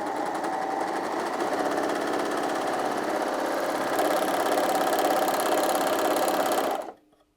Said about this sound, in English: now I'm sewing jersey, so I just want to show you how well it sews on jersey as well